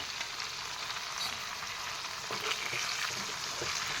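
Fish frying in oil in a kadai gives a steady, close hiss and sizzle, with a few soft scraping stirs partway through and no talking.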